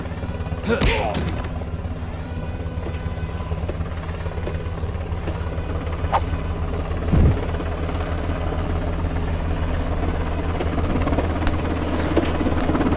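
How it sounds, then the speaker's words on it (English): A helicopter drones steadily and loudly throughout, an even rotor rumble with a couple of dull thumps layered on top. "Yes, that's a helicopter."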